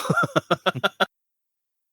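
A rapid fit of about eight harsh, hacking coughs in quick succession, close up, then silence before one more starts.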